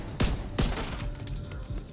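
Gunshots in a video game: two heavy booming shots close together near the start, then quieter thumps and rumbling game effects that carry on afterward.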